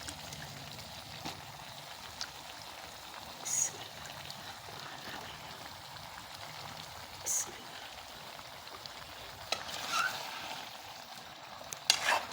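Potato and eggplant frying in a pan for aloo baingan, a steady low sizzle running throughout with a few louder crackles and stirring clinks, no talk over it.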